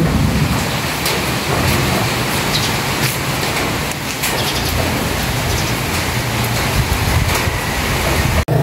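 Rain falls steadily on a windy morning, a loud, dense wash of hiss and patter with low gusty rumbling underneath, continuous throughout and without voices.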